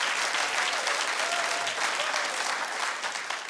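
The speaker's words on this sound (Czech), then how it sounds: "Já nevím, proč tleskáte." Live comedy show audience applauding, a steady dense wash of clapping from a large crowd that holds loud and even throughout, with no talk over it.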